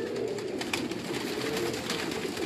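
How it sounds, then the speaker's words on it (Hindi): A pigeon of a high-flying breed coos softly amid a steady outdoor bird background, with brief calls scattered over a continuous noisy ambience. "ये भी इनका एक परवाज़ी कबूतर है।"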